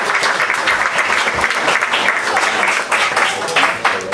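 Audience applause at an improv theatre performance of A Christmas Carol by Improv Boston, a loud, dense, steady wash of clapping from many hands filling the whole stretch.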